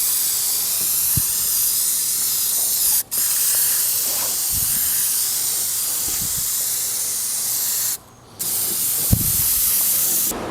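Spray primer hissing from an aerosol can onto a junk wheelbarrow being rebuilt, long continuous bursts close to the mic broken by two short pauses, with faint taps in between.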